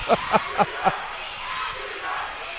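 A high school student section cheers loudly at a girls' regional final basketball game, with four sharp bursts of shouting early on, then a steady crowd roar.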